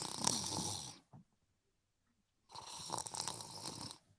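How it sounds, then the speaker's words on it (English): A person snores with two loud, raspy snores separated by a pause of near silence, recorded close and alone. "She's snoring."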